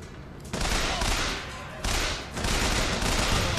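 Rapid machine gun fire in the video game Bioshock Infinite, loud and dense bursts filling the whole stretch with broadband crackle, dipping briefly between volleys.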